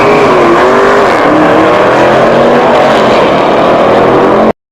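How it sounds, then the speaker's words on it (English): A 426 cubic inch Hemi V8 in a 1960s muscle car revs loud and close, a continuous throaty roar with rising and falling pitch that cuts off abruptly at the end. "the thunder behind it all came from the 426 cubic inch Hemi V8, rated at 425 horsepower but known to deliver much more on the strip"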